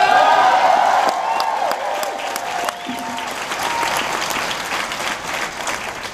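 Convention crowd at a fan expo breaks into loud, sustained applause and clapping that gradually thins out over several seconds.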